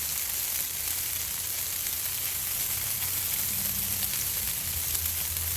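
Thick-sliced bacon sizzles on a Blackstone griddle with a steady, dense crackling hiss that holds evenly throughout, close and unbroken, with no voices.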